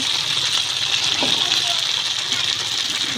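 Kham potato (mete alu) curry being sautéed with cumin powder in a pan, a steady, moderately loud sizzle and hiss running throughout.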